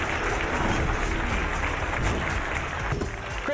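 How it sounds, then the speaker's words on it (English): Brief audience applause as a volunteer named Chris is called up onto a stage, a soft, steady wash of clapping heard at a distance. "Let's give Chris a big round of applause as he joins us up here on stage."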